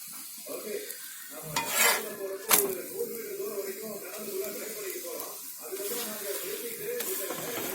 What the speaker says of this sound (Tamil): அப்படியே திருப்பி போட்டுட்டு அதே எண்ணெயால இப்படி தேய்ச்சி விட்டுனா போதும்.